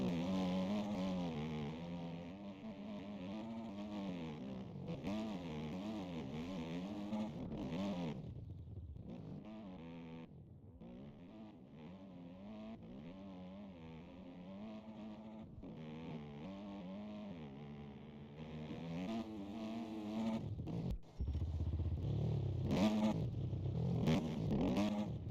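Enduro motorcycles race up a rough, rutted hill at an elite racing weekend, engines revving hard and continuously near at hand, pitch rising and falling as riders work the throttle, loud throughout with a sharp burst near the end.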